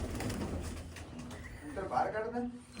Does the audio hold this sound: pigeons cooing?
yes